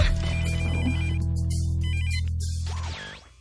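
A cartoon telephone rings continuously and loudly for about three seconds, a bright electronic bell tone sustained over a low hum before cutting off, with no talking.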